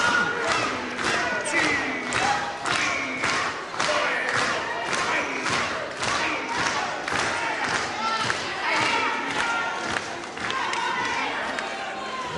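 A boxing arena crowd reacts in a continuous, dense roar of many voices and shouts, with a few thumps under it. The noise stays loud and unbroken throughout.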